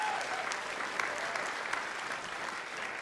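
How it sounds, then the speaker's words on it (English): A college jazz band concert audience applauds a scholarship team with steady, full clapping from many hands throughout, moderately loud and uninterrupted by speech. "Let's give them a round of applause"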